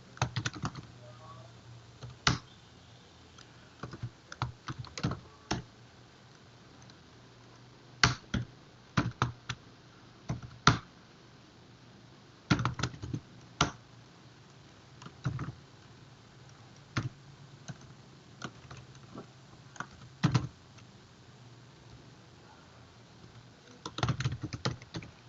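Code typed on a computer keyboard: irregular clusters of crisp key clicks, close and fairly quiet, with pauses between bursts and no talking.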